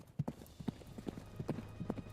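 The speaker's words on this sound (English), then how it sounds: "The horse charges forward, hooves pounding frantically against the ground" Horse hooves gallop over the ground in a fast, uneven clip-clop rhythm, a run of distinct close thuds repeating steadily through the short stretch with no talk over them.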